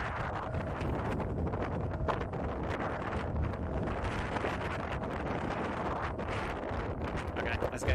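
Outdoor wind buffets the microphone during a Xiaomi Fimi X8 SE drone outing, a loud, continuous rough roar with constant gusty crackle for the whole stretch.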